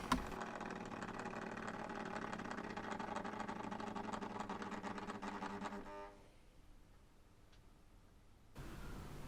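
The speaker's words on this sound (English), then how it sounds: "Warship Class D838 Rapid arrives into platform 2 with 3 bullied corridor coaches" Warship Class diesel locomotive D838 Rapid, a Swindon-built diesel-hydraulic, rumbles close by at a diesel gala as it arrives at a platform hauling three bulleid corridor coaches, a steady loud engine drone that fades sharply before a brief swell of noise returns.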